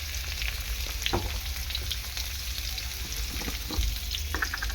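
Papaya being stirred and fried in a pan, with a steady sizzle throughout, broken by a few soft spatula scrapes and clinks.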